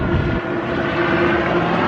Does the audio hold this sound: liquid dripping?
no